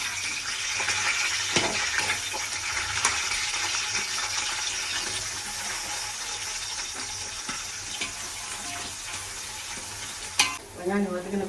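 Onions and green chillies sautéing in a pan for chicken dum biryani, a continuous close sizzle with frequent scraping and stirring clinks of a spoon, and a louder metallic knock near the end.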